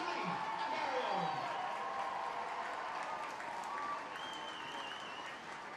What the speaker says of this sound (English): let's get a huge round of applause from the teams from Dungarvan, Ballincollig, Tralee, and Garryowen